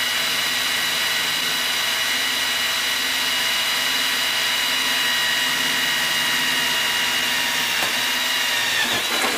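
Hole saw drilling through two layers of metal on an ammo box, a loud continuous high-pitched whine and grinding, close and sustained, ending with a few brief scraping catches.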